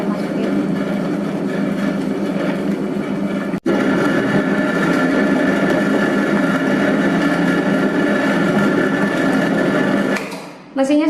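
A dough mixer machine kneads bread dough for a premium torn-bread loaf, giving a steady loud motor whir with a churning rhythm, briefly cut off once before running on and winding down at the end.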